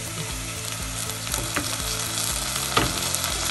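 Garlic-ginger paste hits browned onions in a pan for mushroom biryani, giving a steady, close sizzle with rhythmic stirring scrapes and a sharp clink near the end.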